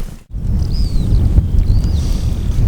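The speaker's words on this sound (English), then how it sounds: "it's a bit windy. Now I'm shooting right into the wind." Wind sweeps across open Dartmoor moorland during a hike, producing a steady low rumble and buffeting against the microphone after a brief lull at the start, with faint thin whistling tones above.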